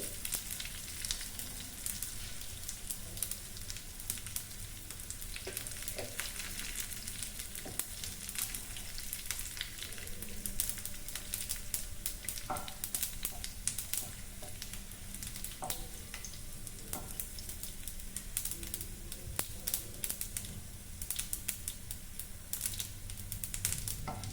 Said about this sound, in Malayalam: ഇനി അതിലേക്ക് ഞാനിവിടെ വെളുത്തുള്ളി ഇടുന്നുണ്ട്